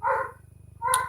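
A pet dog barks indoors in the background, two short barks with a pause between, fairly close, over a low hum and with no talking.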